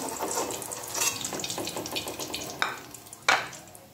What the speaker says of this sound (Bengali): আমার হয়ে গেছে সব ফ্রাই করা।